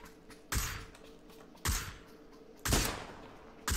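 Gunshots fired at a buggy in PUBG ring out as four sharp, loud reports spaced roughly a second apart, each with a short decaying tail, over quiet game ambience.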